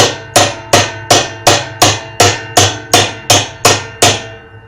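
A hammer bangs on a spanner wrench to loosen the outer tub nut of a Kenmore washer. About eleven loud, close, ringing metal blows land at a steady, even rhythm, each decaying quickly.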